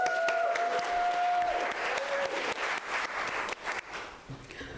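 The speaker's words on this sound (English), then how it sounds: "Can we give them a round of applause, please?" A church congregation claps through a round of applause during a religious education family-led worship service, dense clapping at first that thins and fades, with a faint sustained tone and some murmuring voices underneath.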